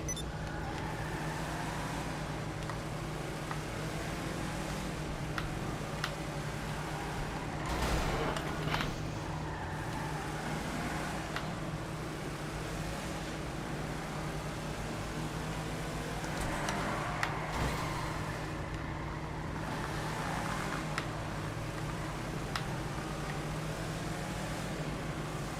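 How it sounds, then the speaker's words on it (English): A D-Class Drift Tampa car drives in GTA V Online, its engine giving a steady sustained hum with a few louder surges and brief clicks over a constant road-like background. "we're going to start with the drift temper"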